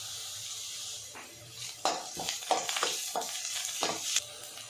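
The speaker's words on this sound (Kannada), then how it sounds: "ಇದನ್ನು ಸ್ವಲ್ಪ ಕೆಂಪಗಾಗೋವರೆಗೂ ಫ್ರೈ ಮಾಡ್ಕೋಬೇಕು" Onions frying in a pan for a cabbage and potato dish: a quiet steady sizzle with scraping stirs and clinks of a spoon against the pan, no voices.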